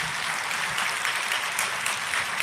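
A congregation claps together at a church gathering, a steady, moderately loud wash of many hands continuing evenly throughout with no speech on top.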